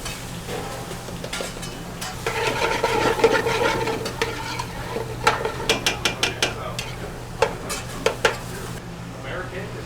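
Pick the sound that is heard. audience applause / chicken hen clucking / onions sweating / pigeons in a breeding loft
onions sweating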